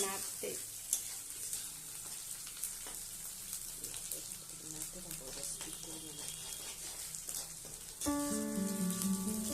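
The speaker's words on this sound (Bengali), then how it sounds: "হলুদ দিয়ে একটু লাড়া করতে হবে, নাড়তে হবে" Chapa shutki, fermented dried fish, sizzles in a pan with salt and turmeric, a close crackling fry broken by stirring scrapes, with a voice heard and music entering near the end.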